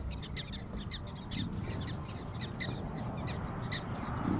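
Prairie dogs in South Dakota give a repetitive squeaky warning call against a coyote, a rapid series of sharp chirps repeated about a dozen times over steady wind and outdoor noise.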